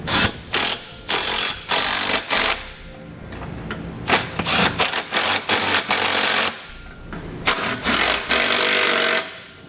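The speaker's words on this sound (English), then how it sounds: "you can take a 3/4 inch socket and begin to tighten all the bolts down" Trailer hitch bolts on a Curt hitch receiver for a 2016 Toyota Highlander are tightened with a 3/4 inch socket, producing loud, close rattling bursts a second or two long, separated by short pauses.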